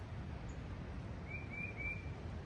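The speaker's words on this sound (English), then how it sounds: "That bird sounds awesome." A few short bird chirps ring out in quick succession over a quiet outdoor hiss on the Appalachian Trail, fairly distant and soft.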